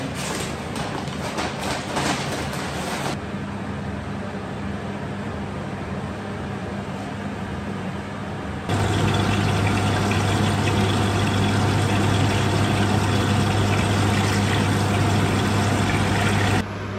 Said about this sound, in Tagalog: naka-turn on yung exhaust natin kasi I'm about to fry the bacon